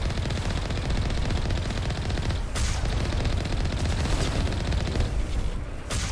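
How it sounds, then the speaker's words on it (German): Dense, sustained gunfire from the Mass Effect video game during a skyway firefight, loud and continuous with rapid overlapping shots and brief bursts. "Und wir werden wieder beschossen."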